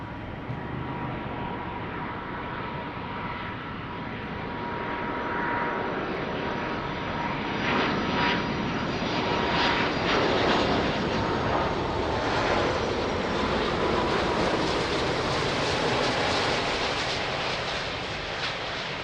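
An Airbus A330 airliner on final approach at Lisbon Airport, its engine roar building steadily and swelling loud and broadband over the whole stretch, heard alone without voices.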